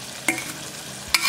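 Onion frying in a pot for a bean and ham hock stew as flour goes in, a soft steady sizzle broken by two quick stirring scrapes.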